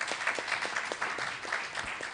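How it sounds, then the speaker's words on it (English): A short round of steady clapping from a seated audience at a business security meeting, honouring the chairman; even, moderately distant, with no voices over it. "a round of applause for the chairman of today"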